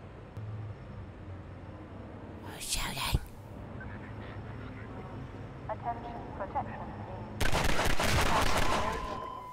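Gunfire bursts out in Half-Life 2, two loud rapid volleys separated by quieter stretches with faint scattered shots, while a player talks quietly underneath.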